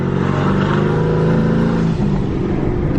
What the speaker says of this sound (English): Good thing I'm driving a twin turbo ZL1.